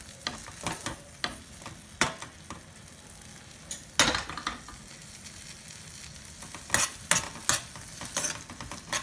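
Buttery corn stirred in a pan with a utensil, giving irregular scraping clicks and taps over a soft sizzle, several sharper knocks on the pan spaced through, close and moderately loud.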